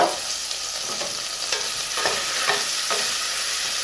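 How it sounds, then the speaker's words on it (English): Chopped onion sautéing in extra virgin olive oil in a pot for quinoa with vegetables, a steady soft sizzle broken by several light stirring scrapes, close and alone with no talking. "we're going to allow this to saute briefly"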